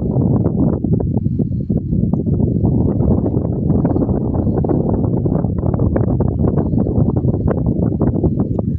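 Steady, loud wind buffeting the microphone outdoors near a mountain on a farm in Trece Martires, a continuous low rumbling roar with no voices.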